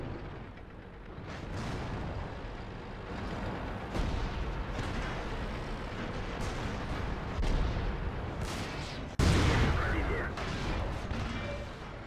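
Tank cannon shots ring out in World of Tanks during a battle with an IS-6, several heavy booming blasts spread across the clip, the loudest near the end, over constant rumbling battle ambience.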